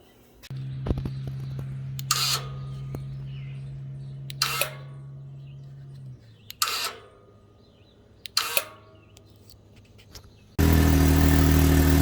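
A Can-Am X3 engine with stock exhaust idles steadily with a low hum, broken by several short revs, then jumps abruptly to a loud, sustained high-revving roar near the end.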